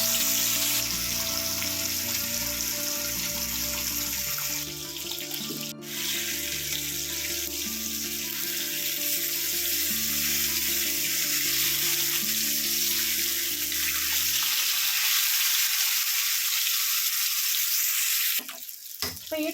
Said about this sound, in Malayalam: നമുക്ക് ഫ്രൈ ചെയ്യാനുള്ള മീനൊന്ന് ഇട്ട് കൊടുക്കാം